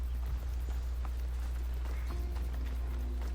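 Horse hooves clatter in rapid rhythmic clip-clops during play of Assassin's Creed Odyssey, a steady galloping beat over a constant low rumble, moderately loud and without talk.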